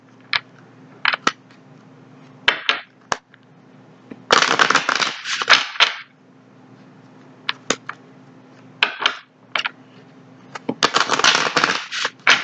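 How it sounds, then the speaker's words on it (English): Tarot cards are shuffled in a series of short, crisp riffling bursts close by, separated by quiet pauses, with two longer rustling flurries midway and at the end. "One more shuffle."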